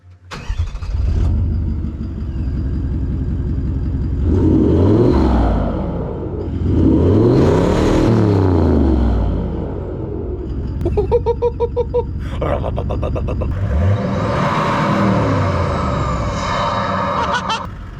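A custom-built 4WD engine cranks and fires, then settles into a steady, loud rumbling idle with a few revs rising and falling, close to the microphone with no talking.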